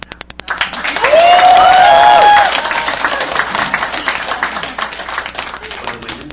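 A crowd bursts into loud applause with cheering and a whistle, then the clapping continues more loosely beneath a speaking voice.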